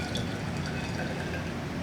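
Ice water is poured from an ice bath into a lab flask during aspirin synthesis, a brief close splashing pour.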